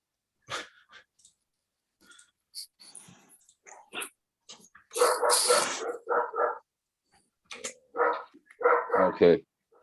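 A dog barks and yips up close in short irregular bursts, mixed with clicks and soft whimpers and separated by quiet gaps.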